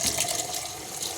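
Water poured from a glass into a cooking pot, a brief, loud splashing gush of liquid heard alone without talk.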